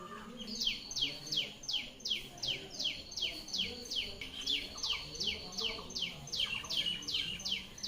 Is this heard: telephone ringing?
no